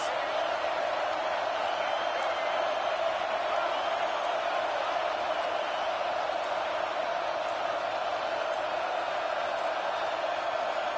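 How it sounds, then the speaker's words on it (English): Football crowd cheers on the defense on a big third down, a steady distant roar of voices under a commentator speaking throughout. "Big 3rd down as the crowd gets behind this defense."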